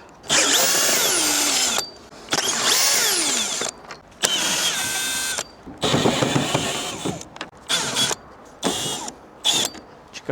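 Power tools remove the front grille of a van, with repeated loud bursts of whirring driver spin-up and spin-down between short pauses, mixed with clicks and creaks of plastic, close and alone.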